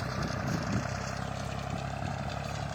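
A Chinese-built Zubr 240 walk-behind tractor with a rotary tiller runs in a field, its engine holding a steady, moderately distant mechanical drone with no change in pace.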